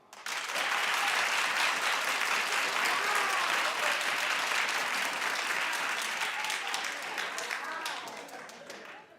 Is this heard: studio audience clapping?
yes